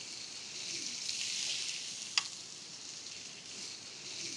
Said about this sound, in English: we're gonna put the, uh, the chicken thighs on the grill. You can hear that sizzle right away